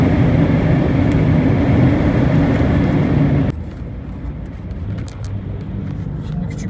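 A VW Bora's engine at high revs on the move, a loud sustained roar that drops sharply halfway to a lower, quieter road rumble, with no talking.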